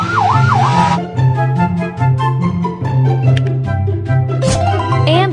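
A toy police car siren wails in a quick rising-and-falling sweep at the start, followed by a loud, repetitive electronic tune with tones playing alone.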